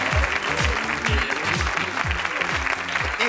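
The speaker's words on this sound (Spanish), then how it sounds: "¡Fuerte el aplauso para la bestia!" A television studio audience at a comedy show breaks into loud applause, steady and close, with low rhythmic thumps running beneath the clapping for the whole stretch.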